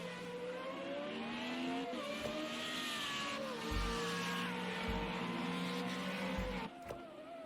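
FR35 racing cars at Imola scream past with high, rising engine notes, several revving and shifting in overlapping waves, steady and fairly loud with brief low thumps.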